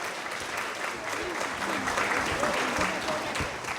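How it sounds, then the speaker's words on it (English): Audience applause at a string music festival, sustained crowd clapping filling the space, with a voice speaking faintly underneath. "If everybody could give her a round of applause"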